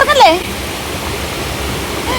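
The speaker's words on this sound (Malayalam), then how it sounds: "ഇതെന്താ അലയമൺ വെള്ളച്ചാട്ടം" Rushing water at Alayaman waterfall, a steady broadband roar that carries through the whole stretch, with a voice speaking briefly over it at the start.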